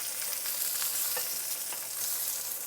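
Beef shanks sear in a hot pan for osso buco, giving a steady, dense sizzle and crackle with faint scraping, close and continuous throughout without any talking.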